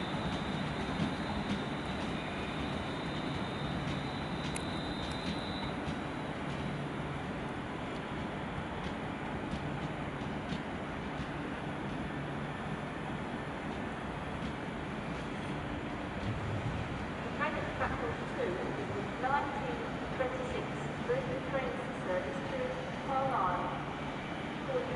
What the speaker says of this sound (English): another train to Birmingham New Street, also London NorthWestern, 35261 is leaving